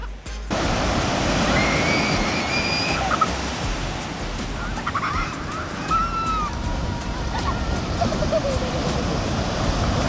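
Waves roll and surf washes steadily on a beach during a picnic, a loud broad roar with faint bird calls and distant voices mixed in.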